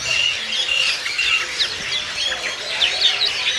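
Songbirds, including bulbuls, chirp and trill repeatedly at a bird market kiosk, with bright overlapping calls close by and steady background noise throughout.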